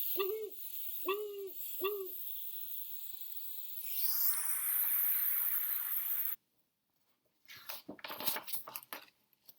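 An owl in the woods gives three evenly spaced hoots, followed by a rising rush of noise, a moment of silence, and then scattered rustling.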